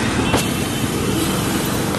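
A car rolls up on a road to collect travellers, its engine and tyre noise forming a steady, fairly close rumble amid surrounding road traffic, with no talking.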